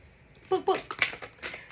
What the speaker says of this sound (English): So shuffling for your current situation.